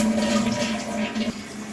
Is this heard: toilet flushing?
yes